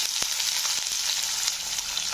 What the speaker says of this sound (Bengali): গোটা জিরে ফোড়ন দিয়ে দিলাম, এবার পেঁয়াজগুলো দিয়ে দেবো